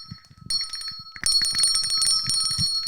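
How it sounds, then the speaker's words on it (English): A hand bell rings in quick bright bursts, starting faintly then loud and sustained with repeated strikes; low voices murmur briefly at the start. "she will come when you ring the bell"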